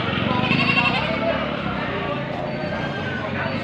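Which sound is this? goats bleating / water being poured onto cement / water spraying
goats bleating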